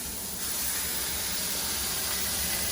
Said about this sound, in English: we're gonna take one of our meatballs there and you can hear that sizzle right away